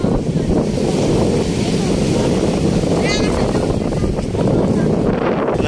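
Typhoon wind at Manila Bay buffets the microphone in a constant low roar, with a faint whistle rising briefly partway through.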